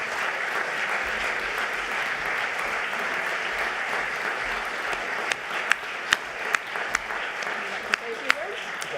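Sustained applause from a live audience at a semi-finalist results announcement, a dense wash of clapping throughout with a few sharper individual claps standing out near the end, and voices mixed into the crowd noise.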